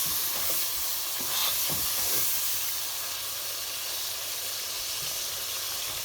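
Chicken Shahjahani korma cooks in a pot, a steady close hiss and sizzle of steam and simmering sauce with faint bubbling pops, no one speaking.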